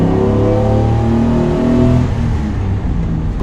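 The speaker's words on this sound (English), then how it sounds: "Downshift, second gear." A 1955 race car engine, loud and near, holds a strong revving tone, then the pitch wavers and drops partway through as it downshifts to second gear, with no voices.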